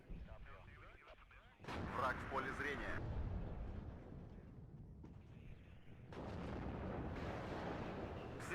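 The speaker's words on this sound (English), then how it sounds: "Shot there from a T-64 from Joe." T-64 tank firing its main gun in WARNO: a sharp, loud boom with a rumbling tail, followed later by further distant battlefield blasts, heard under someone talking.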